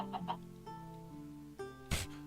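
Chicken in a Minecraft modpack, short clucks and warbling tones at moderate volume, ending with a sharp burst of noise; no voices.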